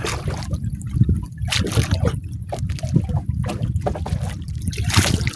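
Waves lap and slosh against a small fishing boat at sea, a steady watery churn with soft splashes and a brief slap roughly every second, close and continuous with light wind behind.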